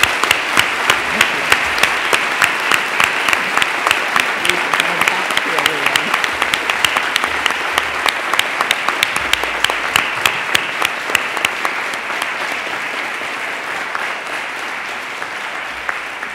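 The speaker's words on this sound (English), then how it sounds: "So could we have a round of applause for our honorary" Dense, steady applause from a large audience at a university convocation ceremony honouring an honorary degree recipient, sustained and loud for about sixteen seconds, with a voice briefly heard beneath it.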